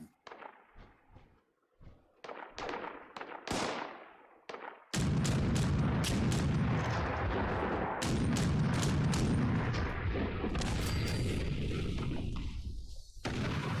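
Sharp, loud explosions and blasts in Fallout 76 go off in a rapid irregular series, first separated bursts, then a dense continuous barrage of booms and cracks.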